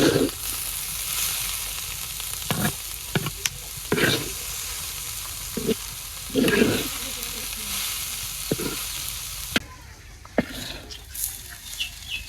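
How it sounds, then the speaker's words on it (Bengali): Saag greens, salted and topped with coriander leaves, fry in a pan in a village kitchen, giving a steady close sizzle broken by repeated scraping stirs, with faint fowl sounds in the background. "শাক ভাজা হয়ে গেছে"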